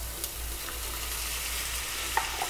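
Soy sauce goes into a stir-fry of Hakka noodles with vegetables and chicken, giving a steady, close hiss and sizzle from the hot pan with a few faint clinks, and no voices.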